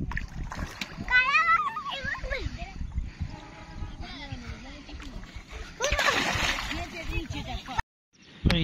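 Water splashing in a flowing canal, steady close sloshing and splatter while children shout and talk over it, with a louder burst of splashing late in the clip.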